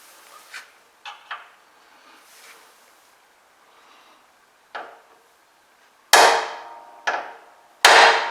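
Several sharp metallic hammer taps on a transfer punch, spaced irregularly, with the last few strikes louder and ringing briefly, close by in a quiet garage.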